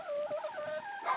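Turkeys outdoors give a short, quick warbling gobble, close and moderately loud with no talk.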